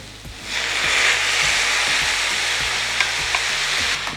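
Three chopped medium tomatoes fry in a pan of plantain curry masala, a loud, steady sizzle that swells in after a moment, with a few light stirring knocks.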